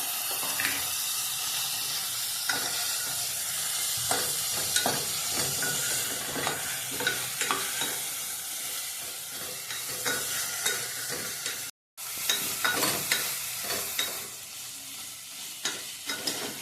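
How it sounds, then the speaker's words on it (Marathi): Salted chicken sizzles and crackles loudly frying in hot oil, with occasional stirring scrapes and pops, close up; a brief cut of silence midway. "ते आपण तेलात आता भाजून घेऊया"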